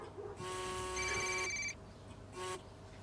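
A telephone rings twice, the first ring long and the second short, with bright electronic tones at moderate volume in a quiet room, for a call expected from the hospital.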